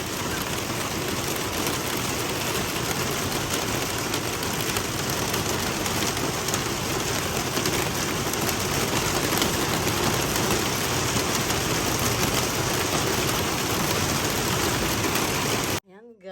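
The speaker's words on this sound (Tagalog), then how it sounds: "super lakas ng ulan." Heavy typhoon rain pours down in a steady, dense roar that stays loud and unbroken for the whole stretch, then cuts off abruptly at the very end.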